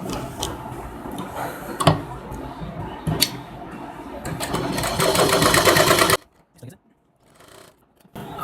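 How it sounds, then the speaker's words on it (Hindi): A sewing machine stitches a princess cut lehenga blouse, running steadily and loud for about six seconds with a few sharp ticks, then stopping abruptly into near silence. "इसको मिला के यहाँ से सिलाई स्टार्ट करते हैं"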